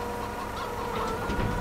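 Farm Sim 22 chickens cluck in a farmyard during a dairy farming game. Soft, scattered clucks sit inside a dense, steady ambient wash.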